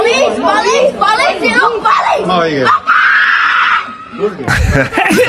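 A woman screams and wails loudly amid chaotic shouting voices in a news clip, her cries rising and falling over several seconds in a tense, crowded scene.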